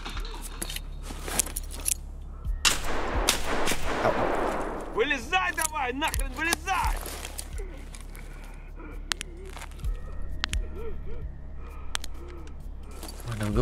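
Gunfire in a battle royale video game: repeated sharp shots and bursts scattered across the clip, some near and loud, others more distant, with a steady game background hum.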